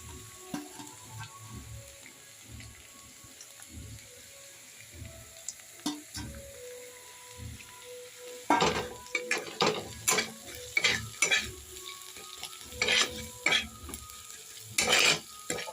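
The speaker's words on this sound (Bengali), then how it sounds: "তেল তেল ছিটে যাচ্ছে, তাও ভিডিও করতে হচ্ছে।" Chopped egg frying in oil for Maggi noodles: a low crackle and soft stirring at first, then loud sharp spitting pops of splattering oil burst in clusters during the second half.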